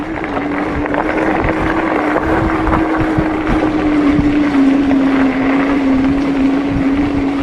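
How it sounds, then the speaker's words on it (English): Hovsco GTSR e-bike ridden at 12 to 14 mph on level 1 pedal assist in 5th gear, giving a steady, loud motor hum with constant wind rush buffeting the microphone throughout, no talking. "I'm doing 12 to 14 miles an hour with level 1 of power assist"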